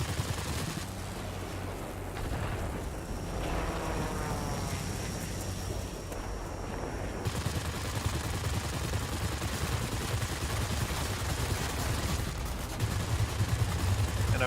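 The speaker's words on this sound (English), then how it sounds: "Boy, I love the sound of those guns." Machine guns of a Curtiss P-36C Hawk, a Tier IV American fighter in World of Warplanes, fire in steady sustained bursts over constant engine drone and wind noise for most of the clip.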